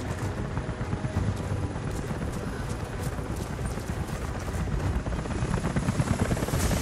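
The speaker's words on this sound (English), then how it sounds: "helicopters are headed your way." A helicopter in the video game Rise of the Tomb Raider thuds with fast, steady rotor beats, loud and continuous, approaching with no voices over it.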